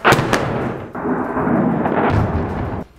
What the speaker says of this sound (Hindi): इस दौरान इतने तगड़े धमाके हुए कि लोगों की जान हलक में आ गई